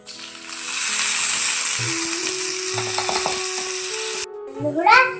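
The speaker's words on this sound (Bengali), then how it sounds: "আমার তেলটা গরম হয়ে গেছে, দিব আলু।" Potatoes dropped into hot oil in a miniature toy kitchen pan, a bright hissing sizzle with small clinks and taps, briefly cut off near the end, while a voice and other people talk.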